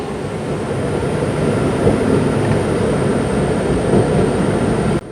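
A train pulls away from Pembroke Dock station with a steady, loud rumble of wheels and engine, continuous and close throughout, with no talk.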